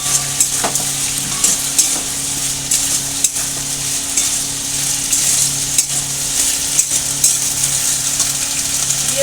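Sliced cucumber frying in spiced oil for a Bengali shukto, with a steady broad sizzle and intermittent scraping stirs over roughly nine seconds; no voices.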